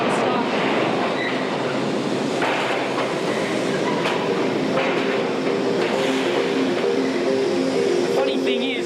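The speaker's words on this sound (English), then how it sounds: "The subway with all the graffiti on it is the one that goes to the Bronx." New York subway train heading to the Bronx, rumbling and clattering past with rhythmic wheel clicks and brief squeals near the end, loud and close, while a voice talks over it.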